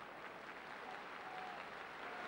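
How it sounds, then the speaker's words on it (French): Crowd at a football match between France and Austria at the Parc des Princes applauding steadily, a dense, distant wash of clapping that stays even throughout. "Le public applaudit"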